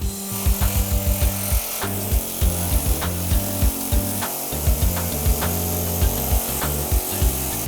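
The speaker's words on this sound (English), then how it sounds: "the nice thing about the air hammer, there's no smoke, there's no sparks, there's no heat" An air hammer cutting car body metal, chattering loudly in short, rapid bursts, repeating in a steady rhythm with brief pauses between hits.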